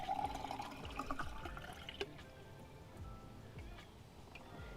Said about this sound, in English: we're going to take our jar and we're going to dump our water in there.